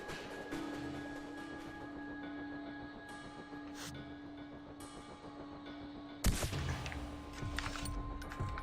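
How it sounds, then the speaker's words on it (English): In the video game Far Cry 4, a sustained electronic hum runs under scattered low rumbles, then a sudden sharp burst of loud, crackling gunfire erupts near the end. "Oh, gunfire nearby."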